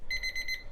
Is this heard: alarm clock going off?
yes